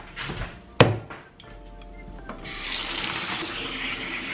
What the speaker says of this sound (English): I'm going to drain the pasta and rinse it with cold water right away